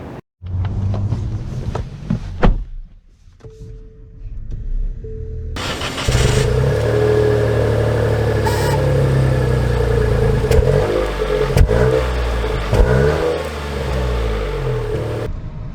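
2023 Nissan Rogue Platinum driving off and accelerating, with a quiet interior hum at first, then a sudden fuller engine and road roar that builds steadily with rising tones, heard close from the cabin.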